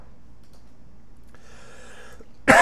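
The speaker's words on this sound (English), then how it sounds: "Oh, I hate those coughs." A single sharp cough bursts out close to the microphone near the end, after a stretch of quiet room tone with faint light ticks, during a live digital painting stream.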